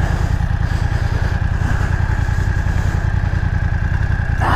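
A BMW F900XR motorcycle rides through a small mud patch, its steady mid-pitched engine drone running continuously and close by, with wind rush over the whole stretch and no talk.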